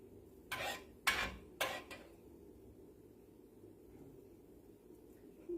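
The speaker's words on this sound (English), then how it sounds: "let's put a little bit of this sausage gravy on here" Spoon scraping and clinking against a dish while sausage gravy is ladled over fresh homemade biscuits, three sharp metallic knocks close by, then quiet kitchen room tone.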